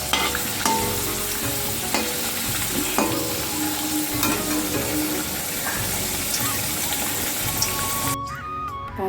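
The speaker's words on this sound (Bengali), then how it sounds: "এখন কুমড়োটা ভাজছি" Pumpkin pieces frying in a pan, a constant close sizzle with stirring and scraping strokes and small clinks, ending in a brief drop to near quiet.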